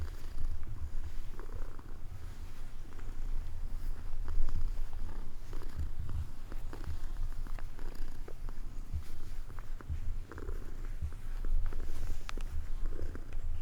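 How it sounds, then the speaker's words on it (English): A cat on a farm in rural Sweden purrs close to the microphone in a continuous low rumbling stream, steady throughout with small shifts in intensity. "One of the missing cats."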